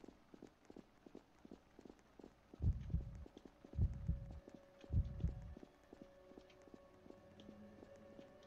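Heartbeat effect in the Roblox game Elmira: three loud, deep double thumps spaced about a second apart, rising out of a quiet, faintly humming background.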